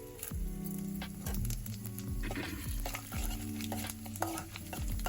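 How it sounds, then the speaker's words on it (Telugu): Chana dal, urad dal and cumin seeds frying in a pan for coconut chutney, giving a steady crackling sizzle with repeated scraping stirs and occasional metal clinks, close and continuous without talk. "పచ్చనిపప్పు, ఉద్దిపప్పు ఇవంతా వేయించుకునేస్తామండి"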